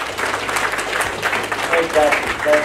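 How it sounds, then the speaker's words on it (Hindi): Audience applause at an insurance sales training session, a short burst of clapping mixed with a speaker's voice talking over it. "जोरदार तालियां।"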